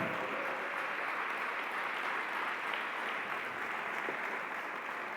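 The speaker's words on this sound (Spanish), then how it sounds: "Dele un fuerte aplauso al Señor." A church congregation applauds steadily as a dense, continuous wash of clapping that holds for the whole stretch, with a faint voice underneath.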